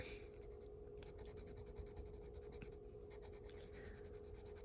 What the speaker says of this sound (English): So with your pencil, you can kind of do layers like this.